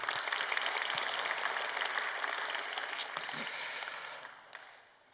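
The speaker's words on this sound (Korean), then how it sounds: "우리 박수로 격려하겠습니다." A Korean church congregation claps together in sustained, even applause during a morning service to encourage a missionary couple, then the clapping fades out.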